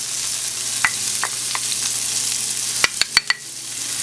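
Shallot and rosemary hiss in a hot pan with a soft, continuous sizzle, broken by several sharp pops and crackles near the end.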